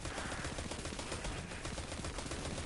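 Rapid gunfire from the video game Forsaken, a dense continuous burst of shots filling the short stretch at a steady, loud level with no talking.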